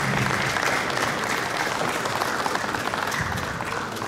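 Loud sustained applause from a crowd at a ceremony marking the 40th anniversary of Pakosław municipality, as an honorary medal is presented, a continuous dense roar of many hands clapping with no pauses.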